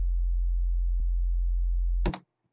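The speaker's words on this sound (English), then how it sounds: "put on a gate on this sine wave oscillator" A steady low sine wave oscillator kick drum tone hums for about two seconds, with a faint click midway, then a brief bright burst as the tone cuts off, leaving silence.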